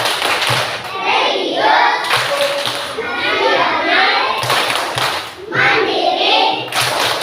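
A school class standing and clapping in a rhythmic pattern on the teacher's cue: bursts of many children's claps in measured groups with short pauses, children's voices chanting along.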